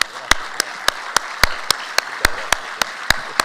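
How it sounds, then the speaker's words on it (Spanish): Sharp, evenly spaced hand claps ring out in a university hall at an event honoring PepsiCo workers, roughly a dozen distinct slaps at a steady rhythm over a faint room murmur. "Y le quiero brindar un aplauso."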